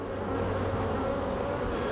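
A small handful of honey bees buzz continuously close by at an opened hive frame during a colony inspection, a steady hum with no talking.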